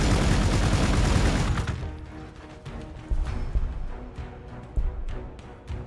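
Rapid volleys of gunfire from units in Warhammer 40,000: Gladius, opening with a dense, loud fusillade that thins into scattered sharp shots and booms, with no talk.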